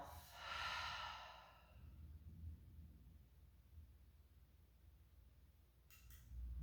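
A deep exhalation out through the mouth during a slow evening yoga flow: one long, breathy whoosh near the mic, then quiet room tone with a faint low rumble.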